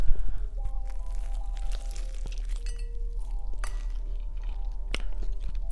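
Crunchy food is chewed close to the microphone in an ASMR recording, with a run of sharp crisp crackles and clinks spread irregularly over a quiet background, and no talking.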